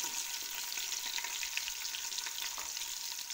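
Onions frying in hot ghee for a mixed vegetable dish, a steady, soft crackling sizzle with light stirring, close but fairly quiet, without any talking.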